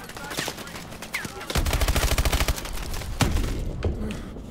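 Gunfire in Call of Duty: Advanced Warfare during the Throttle campaign mission, with sharp scattered shots, then a loud rapid automatic burst and more cracks, all close and dense.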